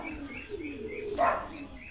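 Racing pigeons arriving at the loft after a derby lap: faint cooing and soft chirps over a low outdoor hum, with a brief flutter of wings midway.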